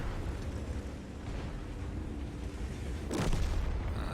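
Tank cannon fire in World of Tanks lands as one deep, heavy boom about three seconds in, over a constant low rumble of engine and battle ambience, with no voices.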